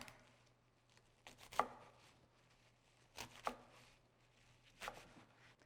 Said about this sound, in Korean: 손질한 아욱은 5cm 길이로 잘라주세요.